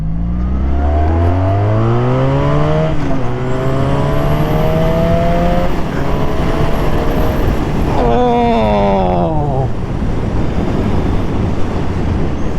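A Honda V65 Magna motorcycle from the 1980s, running on old, crisped-up tires, accelerates hard through first to third gear. Its engine note sweeps rapidly upward in pitch, drops at each shift and climbs again, loud and close, with steady road and wind roar underneath.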